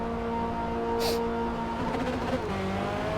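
Race car in Forza Motorsport at Barcelona, its engine pulling hard out of the pit exit with a missed upshift, a steady close drone whose pitch climbs and shifts, with a brief hiss near the middle.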